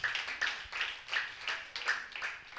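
A church congregation claps in acclamation during worship, with soft, rhythmic handclaps repeating steadily about every half second, fairly distant and faint with no speech over them.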